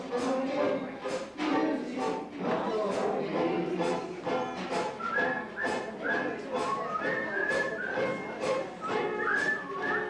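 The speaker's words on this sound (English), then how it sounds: "Well, at least he's still got his whistle." A tape recording of a seniors concert carries a whistled melody of rising and falling notes, heard over a busy, dense background throughout.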